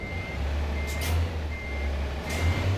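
A truck reversing in American Truck Simulator gives a steady series of electronic beeps over a low, constant engine rumble, close and clear, with no voices.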